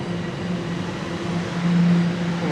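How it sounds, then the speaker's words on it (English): A Line 1 subway train rumbles past at Union Station in Toronto with a steady low hum and a rising drone, loud and continuous as it rolls through the station. "And there goes the Line 1 train."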